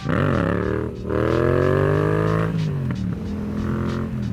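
Yamaha MT-07 motorcycle engine revs hard in second gear as the clutch is dumped, a loud continuous roar rising in pitch, dipping briefly, then climbing again close to the rider.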